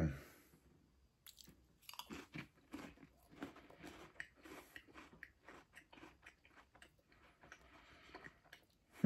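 Crisp, irregular crunching of crackers eaten with canned celery chunks, close and fairly quiet, bites and chews scattered in uneven bursts with near-silent gaps.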